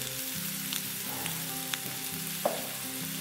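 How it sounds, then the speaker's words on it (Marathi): Potatoes sauté with garam masala in a hot pan for vada pav filling, a steady close sizzle with faint scraping and a small clink near the end, no voices. "आपल्याला एक पाच मिनिटं बटाटे परतून घ्यायचे आहे थोडंसं गरम मसाला टाकून घेतलेला आहे"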